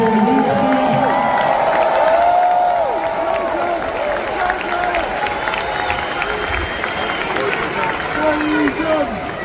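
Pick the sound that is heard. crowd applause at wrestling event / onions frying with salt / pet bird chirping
crowd applause at wrestling event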